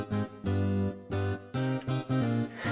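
Strummed guitar chords ring out in a steady rhythm, several full sustained strums with short breaks between them, loud and close.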